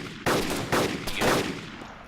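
Gunfire in the survival game DayZ, with three sharp, loud rifle shots roughly half a second apart, each trailing off with a long echo, and no talking over them.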